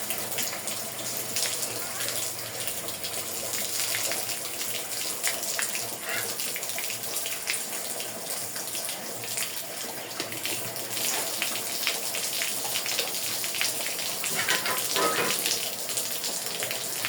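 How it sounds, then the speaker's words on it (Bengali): Water pours and splashes steadily over a cow being washed, with water also running off a railing onto the road, a continuous gushing spray under occasional talk. "পানি পড়তে দেখছেন, পানি পড়ছে"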